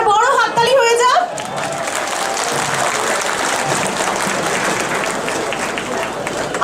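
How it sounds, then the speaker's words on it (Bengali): An audience at a stage program claps loudly in sustained, dense applause after a brief spoken line at the start, with crowd noise filling the room for several seconds. "তারা বড় হাততালি হয়ে যাক।"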